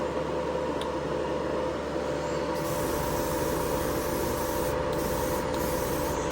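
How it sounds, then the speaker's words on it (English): An airbrush sprays paint in a continuous, even hiss, fairly quiet and close, with a slight change in tone partway through as the spray carries on without pause. "You can just keep spraying."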